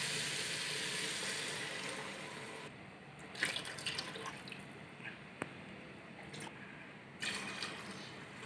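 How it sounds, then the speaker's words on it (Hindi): Water is poured from three glasses into a cooking pot over frying mint and spices for chana pulao, a steady hiss of sizzling and liquid rushing, with a few brief splashes and pauses between pours. "पानी डालेंगे 3 गिलास।"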